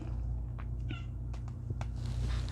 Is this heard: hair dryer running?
no